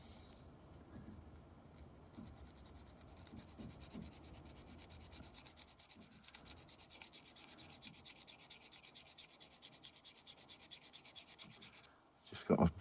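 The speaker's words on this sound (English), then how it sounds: "I'll take a little bit of sandpaper and just try and very, very gingerly sand these feet" Sandpaper is rubbed very lightly over tiny feet on a 1/72 scale plastic model pigeon-loft bus, giving soft, faint, continuous scratchy rasping close by that stops briefly near the end, followed by a short louder rustle.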